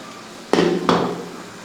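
A utensil knocks twice against a cooking pot while chicken parts and tomatoes are stirred: two sharp, close metallic clanks less than half a second apart, each with a brief ringing tail, in an otherwise quiet kitchen.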